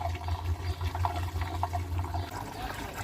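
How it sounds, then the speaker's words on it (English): Gasoline pours from a homemade rigged contraption into a houseboat's fuel tank, a steady liquid gurgle and trickle running continuously at moderate, close range with no talking. "We are going to put some gas in there"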